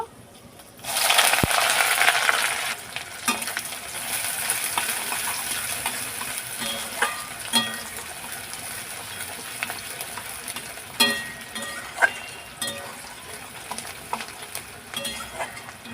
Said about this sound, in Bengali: দু মিনিট নাড়াচাড়া করে কষিয়ে নিয়েছি